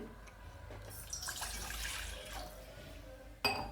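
Water runs and splashes for a couple of seconds, a steady pouring rush at close range, ending with a short clink.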